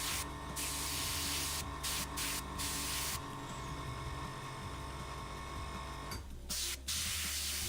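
An airbrush sprays paint from an air compressor, steady hissing bursts that start and stop, with longer continuous spraying and a short pause near the end.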